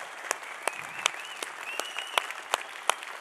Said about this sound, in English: Guys, give me a big round of applause.